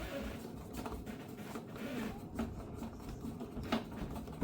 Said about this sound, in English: grab this screw, hold it up to here, and drive the bottom screw in